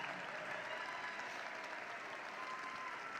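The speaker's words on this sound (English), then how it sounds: "Let me have a round of applause." Steady round of applause from a large audience at a 2024 high school graduation ceremony, continuous and somewhat distant, with no speech over it.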